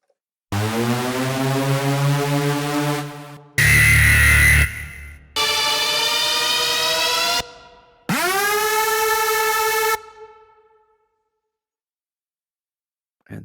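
Several loud electronic siren-like synth bursts separated by brief pauses, the last one swooping upward in pitch before fading out.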